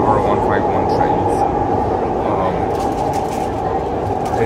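A Siemens C651 metro train runs in Singapore, giving a loud, continuous rumbling roar with a steady low hum and some higher hiss, heard close up with no break.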